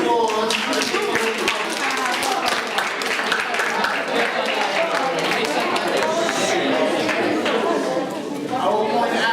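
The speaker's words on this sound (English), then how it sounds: "Everyone, can you please give a round of applause" A school class gives a round of applause at a narrative publishing party, with dense, loud clapping from many students mixed with excited chatter and voices throughout.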